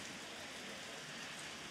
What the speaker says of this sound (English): It is just downpouring, and it is completely ridiculous.